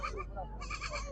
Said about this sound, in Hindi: आज जो है दूध वाली बकरियां दिखा रहा हूँ